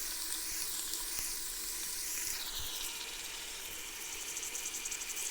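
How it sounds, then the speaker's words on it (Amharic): Chopped tomatoes added to cooked onions sizzle and hiss in a frying pan, a soft continuous crackle with occasional stirring and no talking. "አሁን ቀጣይ ስራ ሽንኩርቱን ቲማቲም ወደዚህ ጨምረዋለሁ ማለት ነው።"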